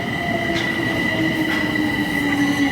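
A metro train in Bucharest rolls in with a steady rumble and high, sustained wheel squeal, fairly close, no talking.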